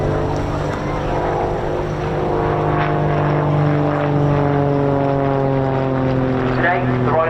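An aircraft flies an aerobatic display at the RAF Cosford air show, its steady engine drone carrying loud and sustained as it finishes a loop, under the continuous voice of a commentator.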